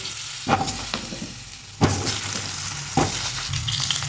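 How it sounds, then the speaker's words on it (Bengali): Potatoes frying in hot fish oil left over from frying fish, a steady close sizzle with a few sharper crackling bursts and stirring clatters, no voices. "মাছের তেলের মধ্যেই আমি আলুগুলোকে ফ্রাই করে দেবো।"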